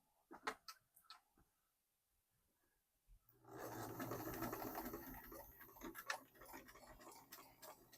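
A few light ticks come first, then a sewing machine starts stitching a pillow seam with a 3/8 inch allowance, whirring in a fast, steady mechanical chatter up close.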